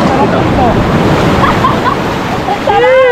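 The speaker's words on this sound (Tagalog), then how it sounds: "Kaya lang, malakas ang alon" Ocean waves break and wash continuously on Baishawan beach in Kenting, Taiwan, a loud, close roar of surf with wind buffeting the microphone and faint voices underneath.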